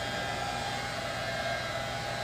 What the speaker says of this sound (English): Spend a little bit of time with the squeegee and the hair dryer, wetting it out and removing the excess off the ends.